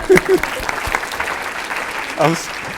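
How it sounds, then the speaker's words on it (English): Light, scattered clapping from a small group, with a few voices speaking briefly over it. "Give them a round of applause."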